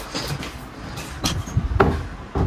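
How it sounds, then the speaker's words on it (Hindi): A house door in Nepal being pushed shut, a series of wooden knocks, rattles and a latching thud, close and fairly loud with no speech over it. "दरवाजा लगा देते हैं, ठीक है।"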